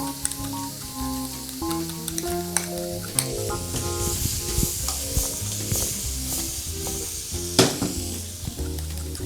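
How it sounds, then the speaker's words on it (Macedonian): Cooking cream goes into a pasta primavera carbonara sauce in a pan, with soft sizzling and scraping stirs under steady background music and a few sharp clinks. "И ставаме павлака за готвење."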